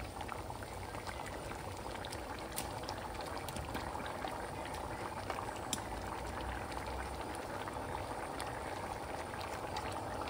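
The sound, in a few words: khichdi boiling in a pot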